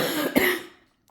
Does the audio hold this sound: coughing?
yes